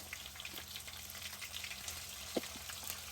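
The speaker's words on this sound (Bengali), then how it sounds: "পেঁয়াজটা আমার ভালো মতো কষানো হয়ে গিয়েছে" Onion and tomato paste with bay leaves and green chillies frying in a pan, a quiet steady sizzle and crackle with faint stirring, no voices.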